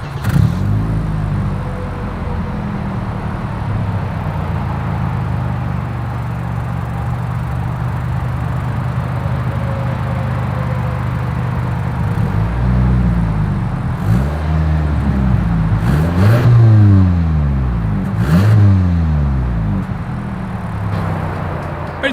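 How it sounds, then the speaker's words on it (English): A 2022 Toyota Camry SE with its V6 idles with a steady low exhaust rumble, then takes several sharp revs that rise and fall in loud, close bursts toward the end, with no talking. "As always, here is that exhaust clip."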